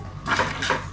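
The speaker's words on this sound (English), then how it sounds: "I don't like this part of spring onion, so I'm going to cut it off." Knife clattering on a cutting board while trimming the end off a spring onion in a Thai kitchen, two brief close knocks and scrapes over a quiet background.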